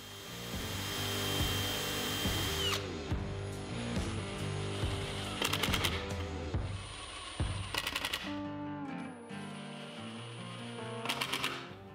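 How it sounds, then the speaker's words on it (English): A power drill pre-drills pilot holes and drives 1 1/4 inch screws into shelves of a wooden screw organizer cabinet, its motor whirring in repeated bursts with short pauses, close and loud. "Then I'll pre-drill into the shelves and connect them with 1 1/4 inch screws."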